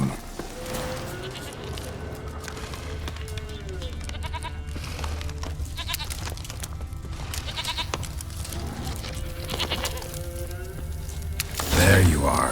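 A goat bleats in The Witcher 3 on Xbox Series X, with several wavering cries spread through a stretch of game sound effects and other noise, and a voice speaking now and then over it.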